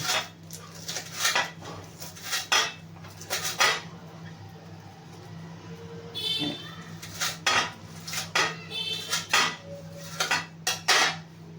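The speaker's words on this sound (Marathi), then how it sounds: "हे सगळी मी अशी आता थोडी थोडी करत कापून घेणार आहे" A leafy vegetable, kulu bhaji, chopped bit by bit with a knife and a vili blade in a home kitchen: sharp irregular chopping knocks and clatter, clustered and spaced, over a low steady hum.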